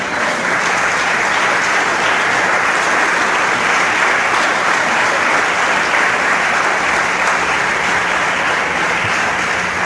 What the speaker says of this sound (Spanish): Yo le estaría dando un fuerte aplauso a él